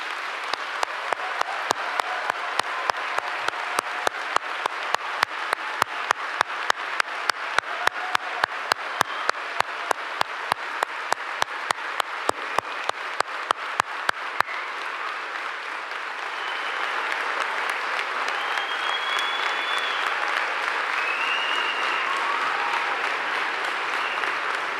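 A large audience at a university convocation ceremony applauds the graduates, first in loud rhythmic unison clapping, then breaking into sustained dense applause with scattered whistles.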